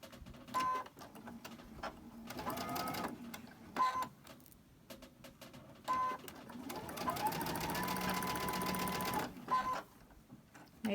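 A sewing machine runs in several bursts with short pauses between them, giving off a rapid mechanical whir with creaking and moaning. The runs are moderately quiet, and the longest one comes near the end.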